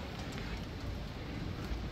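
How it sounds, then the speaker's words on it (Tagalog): Rain falls steadily in Milan as it grows heavier, a faint, even hiss of drops on wet surfaces with no clear voices over it. "Medyo lumalakas na yung ulan dito."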